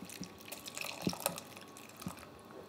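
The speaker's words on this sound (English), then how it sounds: "We're going to put half of the coconut milk," Coconut milk is poured over rice in a cooking pot for nasi lemak, heard as soft intermittent drips and splashes of liquid landing, fairly quiet and without speech.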